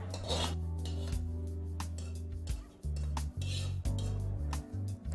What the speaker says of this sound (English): We're going to toss that around because we want obviously everything to be equally coated.